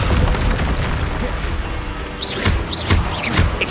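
A Descendo spell slams down in the Hogwarts Legacy game, producing a deep booming crash followed by several sharp impacts and whooshing bursts, loud and close amid ongoing fight noise.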